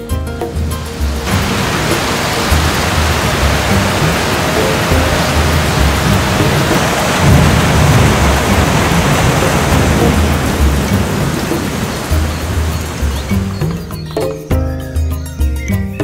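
Heavy rain pours steadily at the start of the rainy season, a loud dense wash with deep rumbling thunder underneath, easing into dripping near the end.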